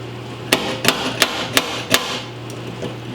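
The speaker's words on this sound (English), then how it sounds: "Grab your slide hammer." A slide hammer with vice grips welded on gives five sharp metallic knocks in a quick, even rhythm as it pulls a dent from a lowrider's body panel, close and loud, then two fainter taps.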